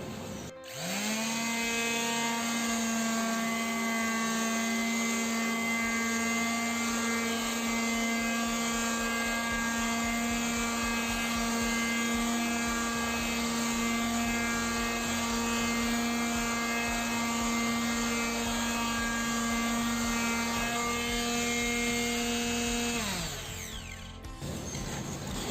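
A power sander works a wooden test board, its motor spinning up to a steady, even whine that holds for over twenty seconds before winding down, close and loud with no talking.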